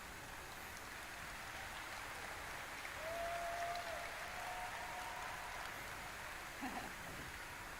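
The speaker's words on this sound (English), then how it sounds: "Applause." Faint, steady applause from a distant crowd at Gamescom 2023, a dense hiss of many hands clapping that continues throughout.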